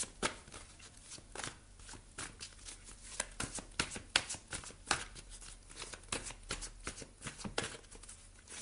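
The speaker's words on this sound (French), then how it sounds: "On va aller prendre également une carte de tarot ici avec le tarot psychique de John Holland." Tarot cards are shuffled repeatedly by hand, a steady run of quick crisp riffling and slapping bursts, close and fairly quiet, with no voices.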